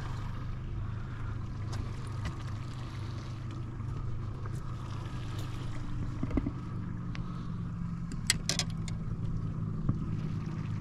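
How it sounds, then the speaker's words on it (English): A fishing boat's engine idles and runs steadily at low speed, a constant low rumble close by, with a few faint knocks and splashes over it and no talk. "I'm gonna leave that engine running."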